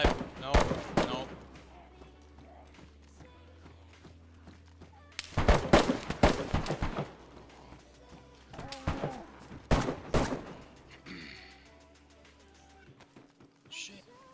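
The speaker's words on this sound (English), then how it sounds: "I'm getting shot." Zombie video game gunfire comes in sharp bursts of rapid shots in two or three clusters, with quieter gaps and scattered smaller noises between them, while players talk over the action.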